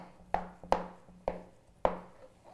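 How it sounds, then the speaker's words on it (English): A knife cuts butter into roughly one-centimetre cubes for pie dough, giving four sharp, close blade taps on a board at an unhurried, even pace in a quiet kitchen. "I need to cube my butter into pieces that are approximately 1 centimeter"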